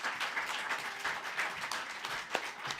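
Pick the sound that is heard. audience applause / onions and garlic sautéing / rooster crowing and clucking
audience applause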